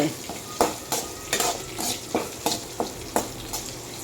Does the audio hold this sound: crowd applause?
no